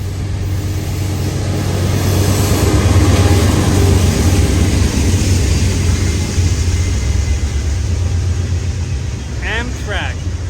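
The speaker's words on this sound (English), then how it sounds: "That train was like a mile long." An Amtrak train rumbles past nearby in a long, steady, loud low roar that fills the whole stretch, with people talking over it.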